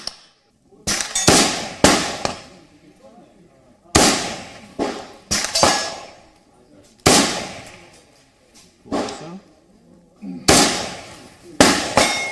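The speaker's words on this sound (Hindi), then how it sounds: "अब इसको दोबारा सिंगल शॉट में डालकर इसको दोबारा इससे फायर कर।" A firearm fires repeated loud single shots during an Indian Navy demonstration. Each crack rings out with a decaying echo, spaced about a second or more apart in irregular pairs and singles.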